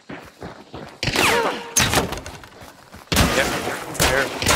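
Gunfire in Hunt: Showdown, heavy booming shots and rattling bursts in three loud stretches separated by quieter gaps, close and echoing.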